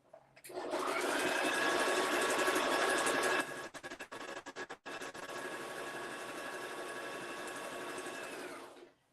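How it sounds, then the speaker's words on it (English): A sewing machine runs in a fast, steady whirring stitch, pauses with a few short stuttering bursts, then resumes a long even run before stopping. "So go to the sewing machine again."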